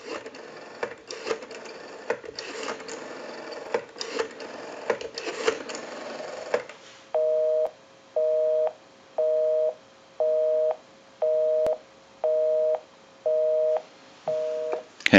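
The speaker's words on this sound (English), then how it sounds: "We'll call my number and it'll be busy." Busy signal on a Western Electric 500 rotary desk telephone: a steady tone pulses on and off about nine times at a regular rhythm, following several seconds of clicking and mechanical rattling from rotary dialing.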